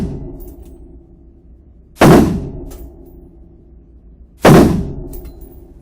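Two loud, sharp gunshots from a domestic DSAR-15P rifle fired at an outdoor range, spaced a couple of seconds apart, each with a quick decaying echo over a low ambient hum.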